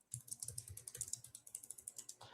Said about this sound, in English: As I say that, as I hear clicking of keyboards from Logan.